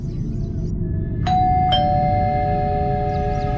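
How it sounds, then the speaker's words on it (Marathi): A house doorbell sounds a two-note ding-dong chime over a steady low background rumble, the tones ringing out and lingering, with no voices; used as an effect in a horror story. "11 वाजता दाराची बेल वाजली."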